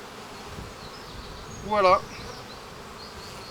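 Honeybees hum around an open hive during an inspection of a swarm-derived colony, a steady faint buzz with one bee passing close by in a louder, wavering drone; a voice speaks briefly.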